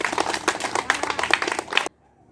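Children clap for a student's long jump during a school physical education lesson, a brisk burst of close clapping that stops abruptly.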